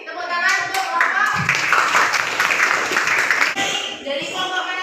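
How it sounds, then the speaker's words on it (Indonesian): A classroom of students clapping for a student group, a brief burst of dense hand clapping mixed with children's voices and chatter, fading near the end. "Oke, tepuk tangan untuk kelompok."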